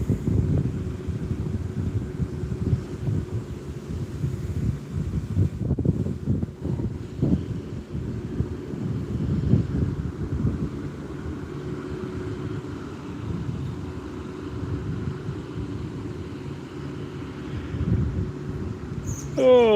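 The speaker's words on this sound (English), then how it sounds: "Every day it's windy or a thunderstorm or something." Strong, gusty wind buffets a microphone at an outdoor culvert fishing spot, a steady low roar with surges that rise and fall over the whole stretch.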